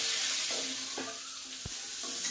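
Potatoes, tomato and green chili frying in hot oil in a home kitchen pan, a steady close hiss of sizzling broken by a few soft scraping stirs, with no voices.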